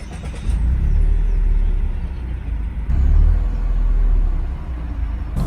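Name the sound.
2020 Toyota Yaris Hatchback driving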